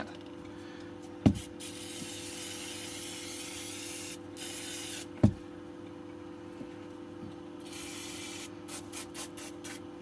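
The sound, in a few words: spraying brake cleaner on e-bike motor parts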